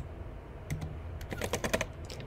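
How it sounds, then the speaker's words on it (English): Keys clack on a computer keyboard as a maths question is entered into the Python shell, a few sparse taps at first, then a quicker burst of close, crisp keystrokes. "So let's type in another question for Python to solve."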